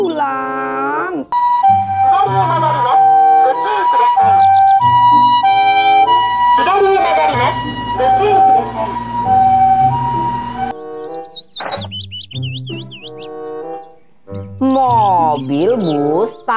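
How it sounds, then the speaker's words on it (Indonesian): A toy ambulance's wailing siren cycles up and down over a music background, then a voice speaks between short electronic warbling tones. "Mobil ambulans."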